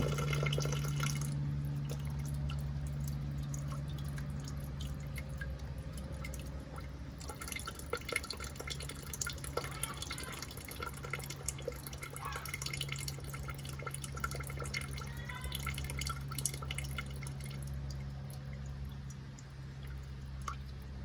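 Rainwater drips out of a 2010 Ford Everest, scattered close drips and small splashes over a steady low hum, with irregular wet ticks throughout and no talk.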